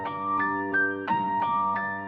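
A short melodic sample chopped into slices and pitched up 600 cents, each note entering with a soft attack and a bright, high-pitched tone, playing alone in a looping pattern.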